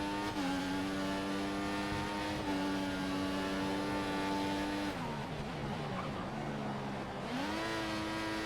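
Formula 1 race car engine from the F1 2014 video game, a loud sustained high-revving whine with strong harmonics that dips as the car slows for a corner around the midpoint, then climbs again, with no talk.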